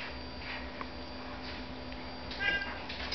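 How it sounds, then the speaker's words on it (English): A cat gives a short, faint meow near the end over a low indoor room hum, with no clear talk. "Kitty."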